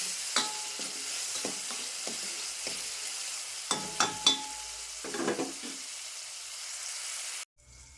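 Tomato fries soft in a pan with a faint steady sizzle, punctuated by several sharp spatula clacks and scrapes against the metal, before cutting off abruptly.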